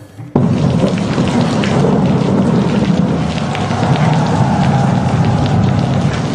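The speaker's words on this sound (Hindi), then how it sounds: "ये लो हो गई बारिश।" Heavy rain and rumbling thunder from a stage-drama sound effect switch on abruptly after a brief quiet moment, then hold as a loud, continuous downpour roar.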